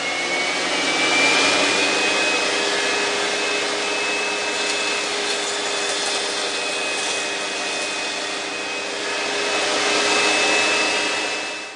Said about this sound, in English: I pushed a piece of wood across the cutter head to try it out